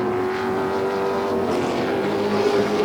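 Canadian vintage modified race cars racing at Flamboro Speedway, a loud continuous engine roar with a sustained whining drone that swells as cars pass, no talk over it.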